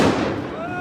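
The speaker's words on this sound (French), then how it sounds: "les deux pétards qui viennent d'exploser juste à côté de moi" Firecrackers bursting close by at a May Day yellow-vest street protest in Paris, a loud sharp blast at the start followed by ringing decay and crowd noise.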